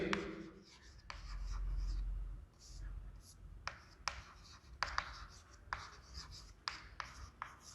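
Pen or marker writing out a Class 7 maths word problem about fruit weights by hand, with scratchy strokes and small taps across the surface, close and fairly quiet, with soft handling noise in places.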